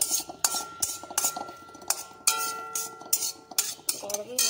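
A utensil clinks and scrapes against a bowl while stirring an egg mixture, with a quick irregular rhythm of close, sharp metallic taps.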